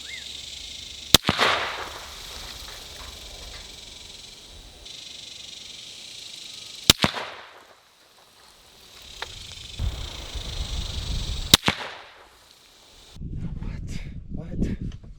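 Rifle shots crack at an outdoor shooting range: three sharp, isolated reports spaced several seconds apart, with quieter handling noise and faint voices between and after them.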